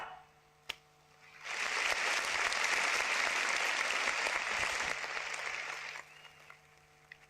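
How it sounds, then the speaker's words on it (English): Audience applause for three speakers at the close of a casual policy talk on big data, a steady broadband wash of many clapping hands that starts after a quiet pause, holds for about four and a half seconds and tapers off. "Let's have an applause for our three speakers."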